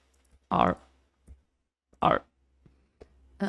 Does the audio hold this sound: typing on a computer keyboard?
yes